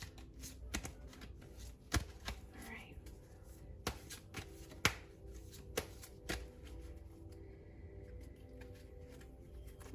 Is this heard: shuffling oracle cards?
yes